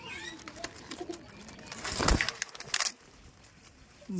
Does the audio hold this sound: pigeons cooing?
yes